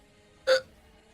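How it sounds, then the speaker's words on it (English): A single short hiccup from a streamer, sharp and close, standing alone against a quiet background. "I have hiccups."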